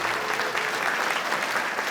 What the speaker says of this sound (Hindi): हमारे जज साहब का जोरदार तालियों से स्वागत करें।